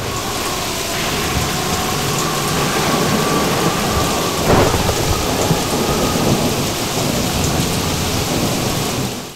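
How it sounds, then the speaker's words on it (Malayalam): A stormy-night sound effect in a drama: heavy rain hisses steadily and densely throughout, with wind and a thunder rumble swelling near the middle, loud and continuous with no voices. "എന്തൊരു കാറ്റും മഴയുമുള്ള രാത്രിയാണിത്."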